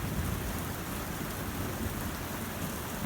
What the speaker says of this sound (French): Très gros orage en cours à Clermont-Ferrand.